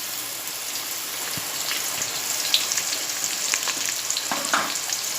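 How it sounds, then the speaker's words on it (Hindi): Sliced onions fry in hot oil with a bay leaf, giving a continuous crackling sizzle with scattered sharp pops and stirring sounds, heard alone. "अब मैं प्याज डालूँगी और इसका बिरिस्ता बनाऊँगी, इन्हें प्याज गोल्डन होने तक तलूँगी।"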